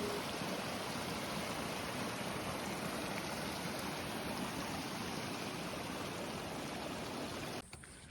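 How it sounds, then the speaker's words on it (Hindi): Steady broadband rush of waterfalls and mountain streams in rain along the Rudranath trek in the Himalayas, continuous and fairly close, with no voices, cutting off abruptly near the end. "जगह जगह पे आपको इस तरह से झरने आते हुए दिखाई देंगे।"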